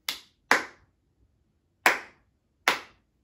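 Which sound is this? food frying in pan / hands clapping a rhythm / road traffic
hands clapping a rhythm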